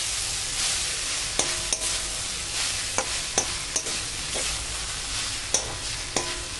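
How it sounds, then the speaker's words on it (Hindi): Soaked poha being stirred into vegetables and peanuts in a pan, soft continuous sizzling under scattered sharp clicks and scrapes of a spoon against the metal, quiet and close. "अब इसमें मैं पोहा ऐड कर दूंगी, अच्छे से इसमें मिक्स कर दूंगी मैं।"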